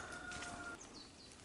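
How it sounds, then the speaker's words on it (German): Chickens cluck and call softly outdoors on a foggy autumn morning in rural Hungary, faint and somewhat distant, with brief bird-like notes over quiet ambient background and no talk. "Die Hühner sind natürlich auch schon draußen."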